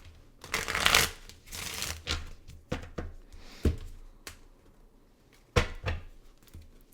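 Tarot cards shuffled by hand, a run of papery riffles and flicks with soft taps and slaps in between, close up and alone with no talk.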